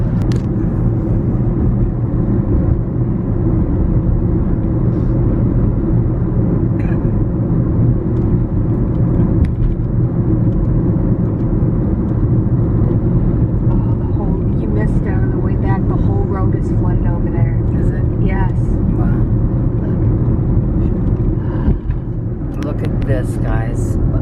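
A car drives through hurricane-hit streets toward Pine Island on Florida's west coast after Hurricane Idalia, with a steady, loud engine and road rumble throughout and voices talking over it.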